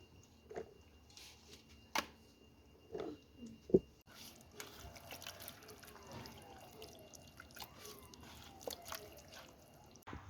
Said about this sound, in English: going to stay and drain all the water. You keep it until the water is very, very drained and dry.